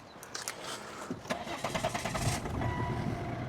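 A Volvo XC90 engine cranks with a few rapid turns, catches, and settles into a steady idle close by.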